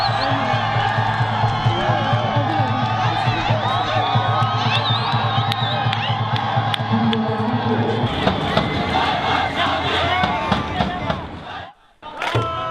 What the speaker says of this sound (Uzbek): olqish sadolari ko'tarildi